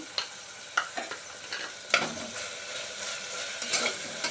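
Ginger garlic paste sautéed in a pan for veg pulao, a gentle continuous sizzle broken by repeated scraping strokes of a spatula, close and moderately loud.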